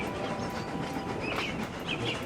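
A steam locomotive rumbles and rattles past nearby, a continuous rushing clatter with faint hissing on top, steady throughout.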